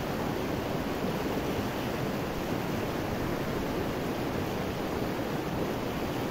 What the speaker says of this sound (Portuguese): Aqui tá muito forte a correnteza da água